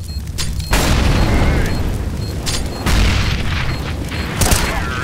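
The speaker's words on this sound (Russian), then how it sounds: "Incendiary out." An incendiary grenade thrown in a first-person shooter bursts with a loud low boom, followed by a sustained roaring rumble with a second swell and a late crackling flare.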